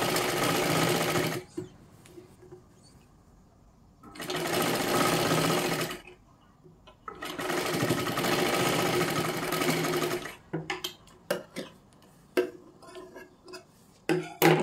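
Three long bursts of a close sewing machine stitching a katori blouse sleeve, separated by quiet gaps, followed by scattered clicks and handling taps of the fabric.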